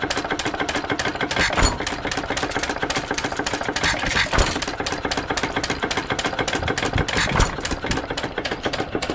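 An antique stationary engine, a Sattley, Hercules or Saxon, runs at a loud, steady pace with rapid rhythmic firing and a few heavier thumps mixed in.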